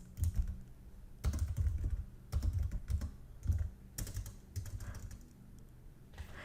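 Close, quiet clatter of fingers typing on a computer keyboard while writing Python code, with irregular bursts of key clicks separated by short pauses and no talking.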